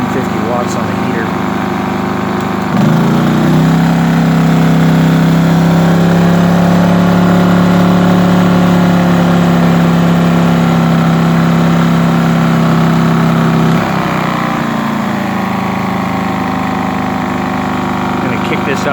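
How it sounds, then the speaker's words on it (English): A Briggs & Stratton 2200 inverter generator runs in idle setting, powering a heater at 750 watts, giving a steady mid-pitched engine drone with a low hum that shifts slightly in load partway through, close and loud. "Idle setting, I'll set it to 750 watts on the heater."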